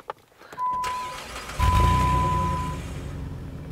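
A Jeep Grand Cherokee WK engine cranks with a starter whine, then catches and roars to life, settling into a steady idle; the exhaust has had repair work.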